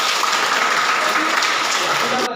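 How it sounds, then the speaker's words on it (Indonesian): Classroom applause, a dense burst of hand clapping from a group of students lasting a couple of seconds, loud and steady, ending abruptly. "Tepuk tangan."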